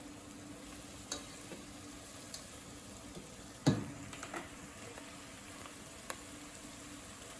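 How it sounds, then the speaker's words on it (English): Food simmers quietly in a pan on the stove, a soft, low bubbling hiss with a few small clinks and one louder knock partway through. "I'm gonna let that simmer for a little bit."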